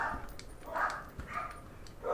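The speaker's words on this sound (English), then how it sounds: "sorry if you guys can hear the dogs barking" Dogs barking in the background, several short muffled barks spread across a couple of seconds at low volume, with no talk over them.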